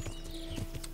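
Horse hooves while riding in Kingdom Come: Deliverance, a quick run of soft clip-clop steps over a low game ambience, brief and fairly faint with no voices.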